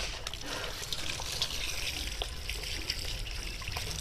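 Raw fish being washed in water, a steady trickling and splashing of running water that continues close and fairly even throughout.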